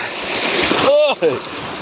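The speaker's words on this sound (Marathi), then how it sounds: "समुद्रामध्ये हे लाटा येतच आहेत मागून मोठमोठ्या" Big sea waves break and roar against the shore in a steady, loud wash, with a brief voice rising over the surf midway.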